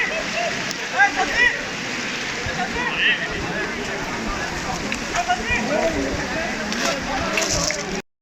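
Noori Waterfall in Khyber Pakhtunkhwa on a busy Sunday, a steady broadband rush of falling water with faint crowd voices and birdlike chirps mixed in throughout.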